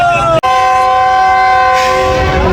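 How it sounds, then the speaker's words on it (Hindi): A sustained, loud, chord-like train horn blares as the Sandal Express pulls out of Jhang station, with a crowd murmuring beneath it and the low rumble of the train. "झंग सिटी से डिपार्चर हो रहा है।"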